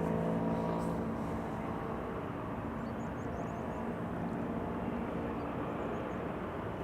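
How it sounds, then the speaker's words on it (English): A NetJets Bombardier Challenger 350 business jet arriving from Paris at Amsterdam Schiphol gives a steady, moderately loud engine rumble and roar that slowly eases over the span, heard alone. "So, over here we have a NetJets bizjet arriving from Paris."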